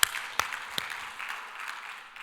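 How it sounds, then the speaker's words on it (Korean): A church congregation gives a soft, steady round of applause during a Korean sermon, faint and diffuse with a few sharper claps standing out near the start. "하나님께 영광의 박수 올려드립니다"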